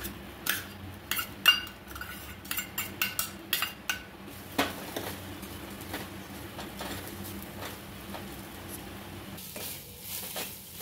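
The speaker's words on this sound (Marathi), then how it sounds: "असं 1 मिनिट असं परतून घ्यावं" Fresh grated coconut sautéed in ghee in a pan, heard as a run of close metallic spoon clinks and scrapes against the pan over a low, steady background.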